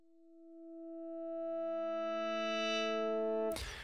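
A DUNE 3 software synth layer shaped by a low-pass filter with a very long filter envelope, a single sustained note whose tone slowly opens and brightens over about three and a half seconds before cutting off abruptly, alone with no voices.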